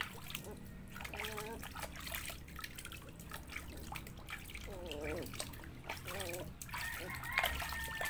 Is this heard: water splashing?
yes